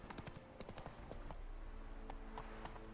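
Roach the horse's hooves clip-clop on the ground in The Witcher 3, a quick irregular run of sharp steps at moderate distance over faint game ambience.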